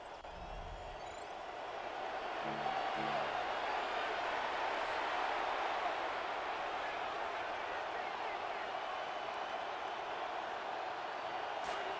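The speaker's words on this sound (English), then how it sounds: "The crowd making their presence felt." Stadium crowd at a Ravens vs Bears football game keeps up a steady, loud roar across the whole stretch, with broadcast commentary voices speaking over it.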